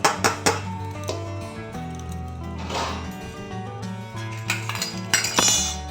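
A metal spoon clinks and scrapes in a spice pan while tossing Indian gooseberries (amla) with green chilies for a pickle, with sharp irregular knocks at the start and end and softer scraping between.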